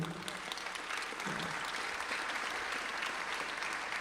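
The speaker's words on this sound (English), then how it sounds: "keep going with the applause" A standing-room-only convention audience keeps up steady applause, a continuous wash of many hands clapping at moderate distance, fairly quiet and even throughout.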